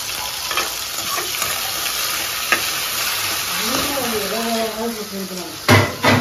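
Onions fry in a pan with tomato, coriander and ginger-garlic paste, sizzling loudly up close under stirring and a few utensil knocks, while a person talks over the cooking.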